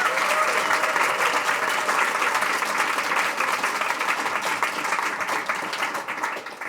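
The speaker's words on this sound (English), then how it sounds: "I'd like a hand of applause because he came from England" An audience at a fireside-chat talk gives sustained applause, a thick, even roll of many hands clapping that holds steady and then starts to thin toward the end.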